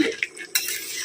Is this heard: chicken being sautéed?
yes